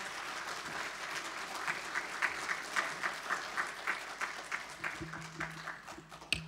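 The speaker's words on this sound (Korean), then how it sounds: "우리 목사님 나오실 때 우리 하나님께 감사의 박수 또 함께 돌리도록 하겠습니다" A church congregation at a Sunday worship service applauding, a broad, steady wash of clapping that settles into rhythmic unison claps, heard at a moderate distance with a faint voice near the end.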